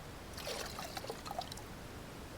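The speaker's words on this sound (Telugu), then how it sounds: "ఒక చిన్న గ్లాస్ వాటర్ అయితే వేసాను." A small glass of water pours into curd in a kitchen, a brief splashing trickle lasting about a second, close and fairly quiet with no talking.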